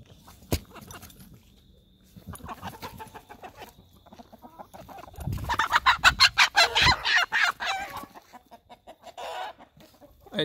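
A farm chicken clucking and then screaming loudly in a burst of frantic squawks after a failed attempt to catch it, close by, with quieter clucks before and after.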